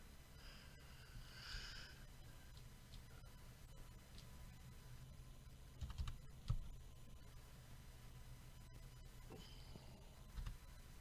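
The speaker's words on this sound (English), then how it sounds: "I'm having a hard time just typing the number in" Fingers tap a computer keyboard while a phone number is entered, soft clicks coming in scattered bursts over a steady low hum, with a few louder keystrokes near the end.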